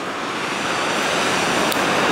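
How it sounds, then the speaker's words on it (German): Dammed river water rushes out through a weir along a riverside cycle path. A loud, steady roar of churning, pouring water fills the whole stretch, dense and unbroken, with no voices. "Und hier sieht man schön, wie das gestaute Wasser dann da sich rauspresst."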